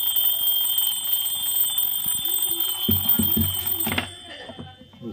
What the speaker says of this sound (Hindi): इसकी एक बार हम बेल और बजा के देखते हैं